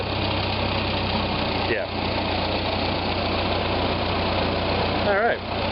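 A car engine idles steadily after an engine rewire, a continuous low rumble with a slight rise in throttle, while people talk briefly over it.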